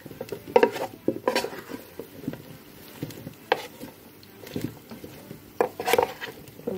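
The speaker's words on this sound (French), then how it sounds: "Et je rajoute mes poivrons. Voilà. Et je mélange le tout." A spoon stirs peppers and chicken in a dish for an air fryer recipe, giving irregular clinks and scrapes against the container. The bursts are close and fairly loud, with short pauses between them and no talking.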